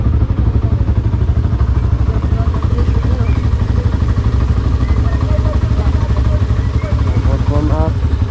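A motorcycle engine idles steadily near by, a constant low rumble with some clatter, while people talk over it.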